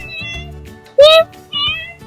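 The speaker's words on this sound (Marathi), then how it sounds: "हे बघा काही आमच्या इथे मांजर येते शेजाऱ्यांची आहे" A neighbour's cat visiting a house in Malvan, Konkan, gives one short, loud, rising meow close by, surrounded by quieter household sounds and faint tonal background.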